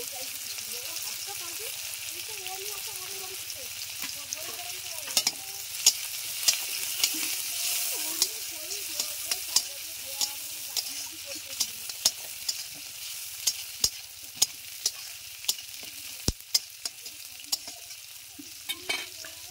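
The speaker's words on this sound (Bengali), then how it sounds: "তেল গরম হয়ে গেছে, জিরে দিয়ে দিয়েছি, পেঁয়াজ কুচি দিয়ে দিচ্ছি, দুটো তেজপাতা দিয়ে দিচ্ছি।" Chopped onion, cumin and two bay leaves fry in hot oil with a continuous close sizzle, punctuated by frequent scraping clicks and knocks of a stirring utensil against the pan.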